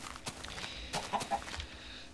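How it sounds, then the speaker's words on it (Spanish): Blocky clucks from a chicken in Minecraft, a few short separate calls over quiet game ambience, with soft footstep-like taps between them. "Pollito."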